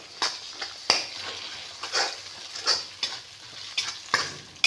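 Eggs frying and being stirred in a pan for egg fried rice, a soft sizzle punctuated by repeated scraping strokes of a spatula at an uneven rhythm, close and clear with no voices.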